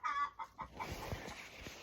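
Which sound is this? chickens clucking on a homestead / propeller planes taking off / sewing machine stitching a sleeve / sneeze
chickens clucking on a homestead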